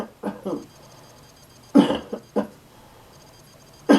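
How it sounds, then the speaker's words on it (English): A person coughs several times up close, in short harsh bursts separated by pauses, with one forceful hack near the end. "you're going to see me cough on my own"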